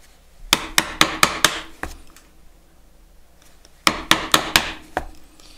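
A chisel is struck sharply to chop out waste on a hand-cut wooden dovetail joint, with two bursts of five or six crisp, evenly spaced knocks separated by a quiet pause, close and clear with no talking.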